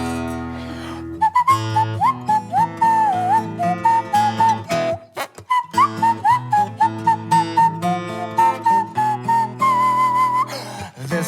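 A performer whistles a melodic tune through an instrumental verse, the clear warbling line running almost continuously with brief breaths, over steady acoustic backing with light percussive hits.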